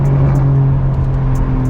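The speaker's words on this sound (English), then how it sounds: "There's a lot more exhaust noise." A BMW G82 M4 in sport mode gives a loud, steady low exhaust drone with a strong sustained rumble, heard up close and continuous with no talk over it.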